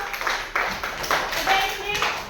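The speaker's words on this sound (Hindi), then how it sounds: "इसके लिए भी ताली बजाओ" Several children clap their hands in a few rhythmic bursts over a steady background murmur, with a voice speaking over it.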